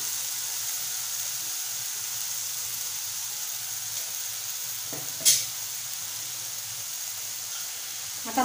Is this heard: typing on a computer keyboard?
no